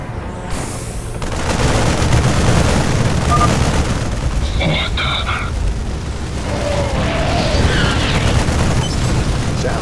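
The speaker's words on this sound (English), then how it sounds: "Adjutant, activate those gun turrets and give them a surprise." Gun turrets firing in the StarCraft 2 game: a dense, continuous barrage of booming, rumbling gunfire that runs throughout the clip, with a few brighter tonal effects layered over it.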